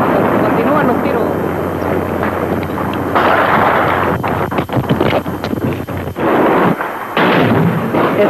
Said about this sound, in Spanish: Los tanques están disparando contra esta habitación.